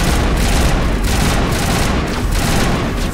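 Dense, loud gunfire in a Mass Effect video game battle, rapid overlapping shots and booms forming a continuous barrage with no pause.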